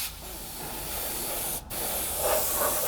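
An airbrush sprays a light coat of paint onto a 1/48 scale Hasegawa F/A-18E Super Hornet model kit, a steady close hiss with one brief break midway before the spray resumes.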